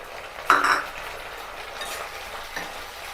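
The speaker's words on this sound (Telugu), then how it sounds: "ఆనియన్స్ ఫ్రై అవుతున్నాయి కదా" Onions and tomatoes frying with curry leaves in a pan for an aloo and green pea kurma, a steady soft sizzle with a brief louder clatter of stirring near the start, no talking.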